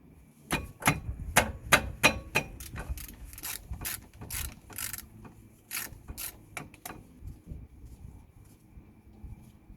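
Ratchet clicking rapidly while undoing a brake caliper guide pin bolt on a 2016 Toyota Verso 1.8 VVT-i, a run of sharp, close metallic clicks in quick bursts that slow and thin out toward the end.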